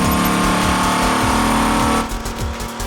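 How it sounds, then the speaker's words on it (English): A 645-horsepower Dodge Viper engine is pushed to redline in a dyno test cell, a loud sustained mechanical roar that holds steady and then drops off sharply near the end. "The team pushes the engine to redline"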